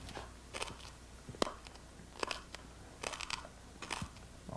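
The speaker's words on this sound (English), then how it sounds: "Let's go on a loop of this crunching glass sounds." Crunching glass, looped: sharp irregular crunches and crackles recurring in bursts over quiet background, fairly close and moderately loud, no speech.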